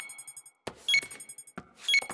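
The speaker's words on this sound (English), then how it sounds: "Why is the computer beeping?" Library computer in a Peppa Pig cartoon beeping twice, each burst a short run of bright electronic tones, with a quieter repeating synthetic musical pattern underneath between them.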